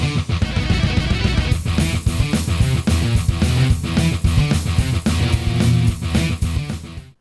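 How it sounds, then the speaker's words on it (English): Doom's game music plays through sound fonts, a dense, loud mix of heavy guitar-like tones and pounding drums in a fast steady rhythm, with no voices, cutting off abruptly at the end. "Doom could now sound like this."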